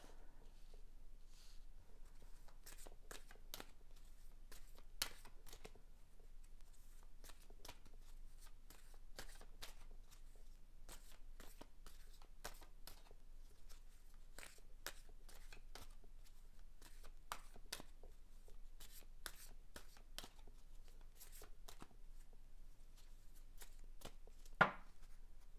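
Tarot cards being shuffled and drawn, a faint, quiet patter of soft card snaps and flicks in irregular bursts throughout, with one sharper tap near the end.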